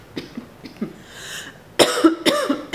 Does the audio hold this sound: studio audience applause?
no